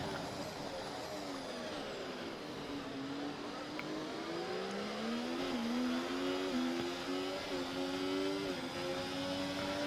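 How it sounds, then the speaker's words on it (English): A Formula 1 race car engine in the F1 24 video game, at the Canada circuit, hums steadily at high revs for the whole stretch, its pitch climbing gradually as it accelerates, loud and continuous. "I don't know how that engine's still running on that much percentage."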